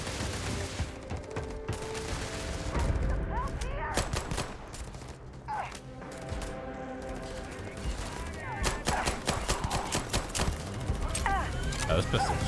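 Pistol gunfire in the video game Starfield, rapid sharp shots and crackling bursts amid busy game effects and background music, with a player's voice talking over the action.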